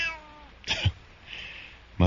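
A cat gives short meows, two or three brief cries spaced apart, fairly close and clear, after a trailing voice at the start.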